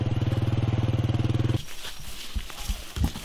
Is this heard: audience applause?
no